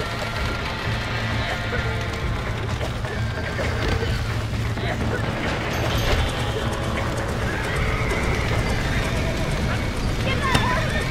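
Horses in the Red Dead Redemption video game whinny and clip-clop at a gallop throughout, with game ambience and shouting voices over the hoofbeats.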